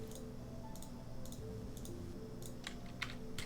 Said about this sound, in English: You guys like my loud clackety keyboard?